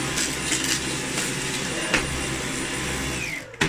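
A Dyson V11 Absolute cordless vacuum cleaner runs with a loud, steady close motor whine, dipping briefly before stopping at the very end.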